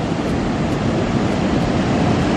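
Ocean surf on a Barbados beach rushes continuously, a loud, dense wash of breaking waves with wind buffeting the microphone, no voices heard.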